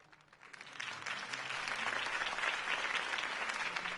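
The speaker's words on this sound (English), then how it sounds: "could have heard that applause" Crowd applause after a campaign speech in the video game Batman: The Telltale Series, rising quickly from quiet into steady, sustained clapping from many people.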